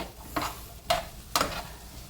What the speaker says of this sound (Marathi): आणि याला चांगलं आता आपण सोते करून घेऊया